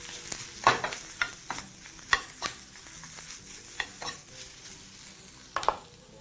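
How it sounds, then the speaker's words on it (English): Spinach tossed quickly in a smoking hot pan, a soft sizzle broken by scattered sharp scrapes and clatters of stirring, fairly quiet and with no voices. "Once it's nicely smoking hot, proceed to spread out your spinach. Toss that very quickly while regulating the temperature on your pan."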